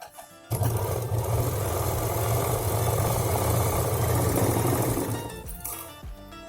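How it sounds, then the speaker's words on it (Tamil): A sewing machine runs for several seconds in one unbroken, steady mechanical hum, stitching lining cloth for a handbag. It is close and loud, with brief quiet before it starts and after it stops, and no talk. "வச்சு இங்கேருந்து இங்கே வரைக்கும் ஒரு தடவை தையல் போட்டு எடுத்துக்கலாம்."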